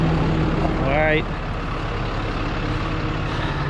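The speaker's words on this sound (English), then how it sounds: "This F650 little dump truck." A Ford F650 dump truck's diesel engine idles with a steady low rumble, and a short air brake release hisses near the one-second mark before the engine settles back to a constant drone.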